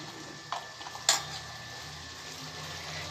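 Mustard paste with slit green chilies fries in a pan, giving a steady soft sizzle with a couple of brief sharper spits and clinks near the start.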